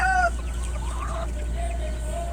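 Pet laying hens scratching at rice hulls, giving a few drawn-out clucks and squawks with a higher call at the start, close and moderately loud over a steady low mechanical hum.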